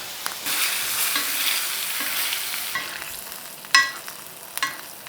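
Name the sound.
basting lion's mane mushroom steak with butter and garlic in a pan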